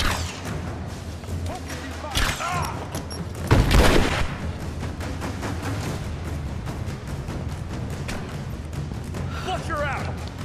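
Gunfire in the video game Rise of the Tomb Raider, with loud bursts of shots and a heavy blast near the middle over a dense battle din, while characters shout to each other.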